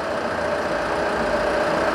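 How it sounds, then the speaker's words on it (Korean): The engine of a used Chevrolet Malibu idles in a steady, even low hum with a faint whine on top, unchanging throughout and heard alone with no talk. "그리고 현재 지금 엔진이 구동 중인데"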